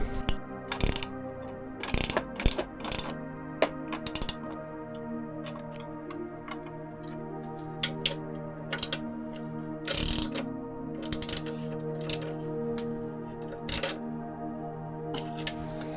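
Ratcheting clicks and short mechanical bursts come from a wrench tightening a bolt on a Royal Enfield Himalayan 450 tank crash bar, with spaced clusters of sharp ticks over a steady low hum. No talk is heard.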